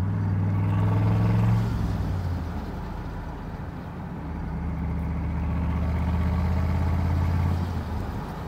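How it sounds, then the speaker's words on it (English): A street car on eBay turbos with a failed turbo bearing cartridge runs nearby at a track night, its engine droning loudly, easing off, then building again, with a rough rattly texture under the note. "I've got a serious rattling sound, and something's broken here."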